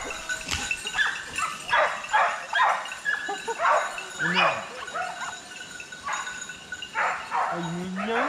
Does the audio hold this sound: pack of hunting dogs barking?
yes